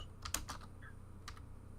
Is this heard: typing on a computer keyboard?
yes